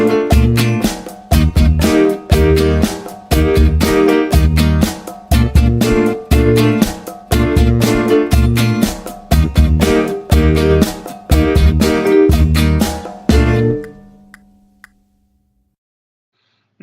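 A jazz band rhythm section plays the complete stacked groove together, with steady loud drum hits, bass and chords in an even pulse, then stopping abruptly near the end and leaving a ringing tail before silence.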